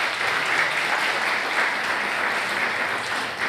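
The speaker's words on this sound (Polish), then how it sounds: "Wielkie brawa." Steady, dense applause from a crowd at a wedding gala, clapping continuously at a fairly loud level for a few seconds without pause.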